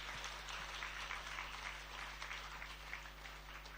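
A seated audience at a spiritual discourse claps steadily, a continuous crackle of hands held at an even level under a low constant hum.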